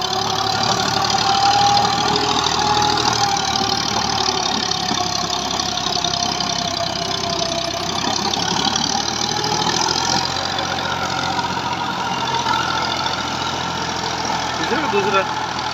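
A tractor with a 54-cutter rotavator attached works in second gear with a steady, unbroken engine drone and churning mechanical noise. The sound stays loud and constant throughout, and a voice is faintly heard over it.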